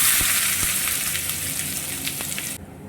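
Chopped onion with a few pieces of cinnamon and clove spits and crackles loudly in hot white oil in a wok, a dense, continuous sizzle that cuts off abruptly near the end, no talking.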